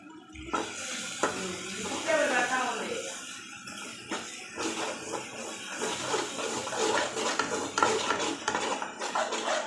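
Mutton frying in a pan with salt and masala, stirred with a utensil that scrapes and clinks against the metal in an uneven rhythm, close by, while a person talks throughout.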